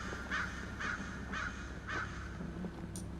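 Four evenly spaced crow caws from a video game sound in quick succession at moderate loudness over a steady ambient background, followed by a brief high chirp near the end.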